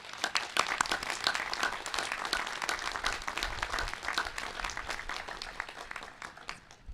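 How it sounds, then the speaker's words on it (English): Thick, energetic applause from families and friends honours graduates at the Thayer School investiture ceremony, many hands clapping continuously in a large hall and easing slightly in the final second. "how about another huge round of applause for all of our graduates?"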